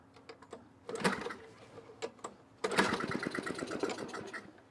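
An old, neglected Craftsman snowblower engine is pulled over with a couple of short rattling cranks, then catches into a rapid, steady mechanical chatter, close and fairly loud.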